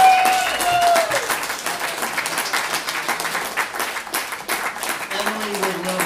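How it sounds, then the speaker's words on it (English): Audience at a jazz tribute concert applauds an Irish bassist, a steady wash of clapping heard for several seconds with a few brief tones heard over it. "Please give this man a round of applause."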